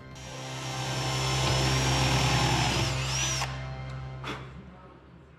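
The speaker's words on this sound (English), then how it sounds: "let's do the naughty and drill some holes in the tank" A power drill whines steadily at close range, boring holes in a rusty vintage Honda ATC 90 gas tank, its pitch rising and dipping, then stops abruptly, followed by brief clicks.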